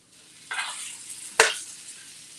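Onions and cauliflower rice caramelizing in a frying pan give a faint steady hiss, broken by two short bursts of louder sizzling and stirring.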